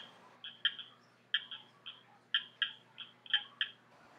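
A Northern Cricket Frog calls with sharp, clicking notes like marbles tapping together, delivered in a steady, irregular series of doubled clicks, close and distinct over a quiet background.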